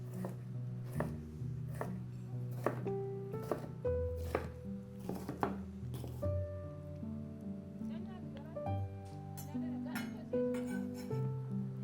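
A knife chops a bell pepper steadily on a cutting board, with sharp, irregular taps over a soft background of voice and music.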